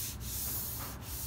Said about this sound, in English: sanding this area.